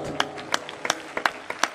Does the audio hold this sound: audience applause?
yes